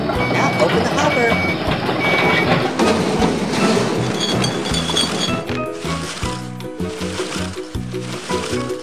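A video-game garbage truck backs up, its steady reversing beeps layered over busy game music and sound effects that continue throughout the clip.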